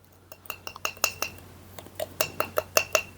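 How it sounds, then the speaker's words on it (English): Metal measuring spoons clink and tap against a bowl as two teaspoons of bicarbonate of soda go in for porridge oat bread, a quick series of close, bright chinks with short pauses and no talking. "And I'm also going to put in 2 teaspoons of bicarbonate or bread soda."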